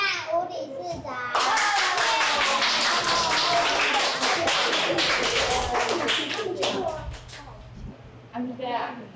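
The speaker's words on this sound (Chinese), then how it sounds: "我们以热烈的掌声欢迎" An audience claps in a sustained, dense burst of applause to welcome a speaker at a children's reading event, with children's voices and chatter mixed in before and after.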